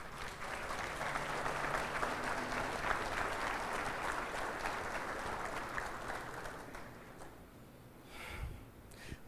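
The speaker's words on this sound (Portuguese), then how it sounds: "Se eu fosse você, eu aplaudia Jesus, irmão." Church congregation applauding during a communion celebration service, sustained clapping from many hands that holds strong, then gradually thins and fades toward the end.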